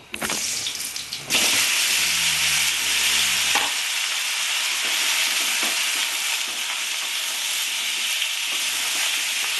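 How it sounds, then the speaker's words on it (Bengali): Pointed gourd (potol) hitting hot oil with turmeric in a wok bursts into a loud, continuous hissing sizzle after a brief quieter start, then fries steadily at close range. "আমি মানে একটু কড়াইতে হলুদ দেব দিয়ে পটলগুলো দিয়ে দেব"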